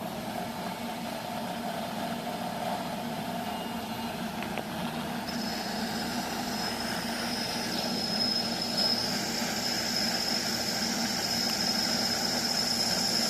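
A CNC lathe turns a part from D16T-like aluminium alloy, dry, giving a steady, loud, unbroken machine drone with a constant hum and a high whine that rises partway through; no one speaks.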